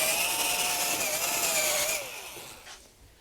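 Power drill boring a countersink hole in wood for a ski chair, a close, high-pitched whine for about two seconds that then winds down and stops.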